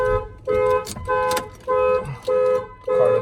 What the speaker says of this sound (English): Somebody Slim Jims the door and gets in, the alarm is going to fire off.